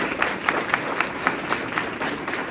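An audience at a college event applauds a guest as he is introduced, a steady crowd clapping with a few sharper, regularly spaced claps standing out on top, moderately loud and without talk.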